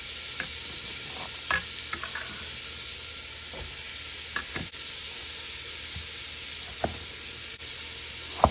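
Chicken soup ingredients hitting a hot pot give a soft, steady sizzle with scattered small pops and ticks, fairly quiet and without talk.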